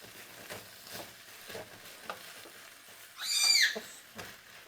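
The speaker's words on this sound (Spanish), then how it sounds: "y sofreímos." Sofrito with tomato purée frying in a pan, a soft low sizzle with light stirring taps and a brief louder burst of spattering near the end.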